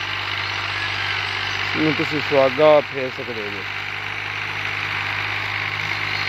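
A Fiat 480 tractor engine runs at a steady low drone throughout while someone talks over it in the middle.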